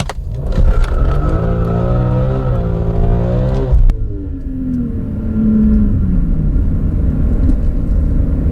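A BMW M3 E46 with SMG transmission pulls away from a complete stop, its engine loud and close as revs climb through first gear, then drop sharply at the upshift and settle into a lower, steady rumble.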